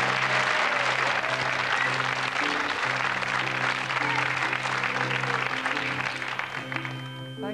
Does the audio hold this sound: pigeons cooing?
no